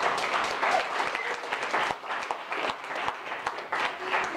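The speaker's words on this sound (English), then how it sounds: "let's give all of the project owners a round of applause" Steady applause from an audience at a Seed Chicago launch party, cheering project owners on their first day live, dense and sustained clapping with a few voices mixed in.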